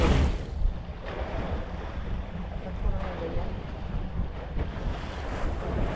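A small, loaded fishing boat out on the West Philippine Sea rides through waves, with a steady rush of surf and gusting wind buffeting the microphone at close range and no clear engine.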